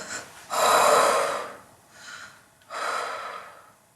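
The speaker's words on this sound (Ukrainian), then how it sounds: "Хай дихає, дихай, дихає." Loud, heavy breaths alone: a long forceful exhale, then a softer breath and another strong exhale, close up with no talk.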